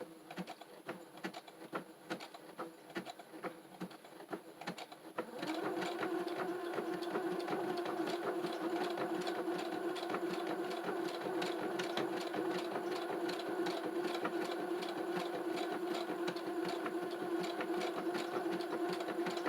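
A domestic sewing machine stitches fabric, starting softly and then settling into a steady, rapid, continuous mechanical whirring that runs close and loud for the rest of the clip.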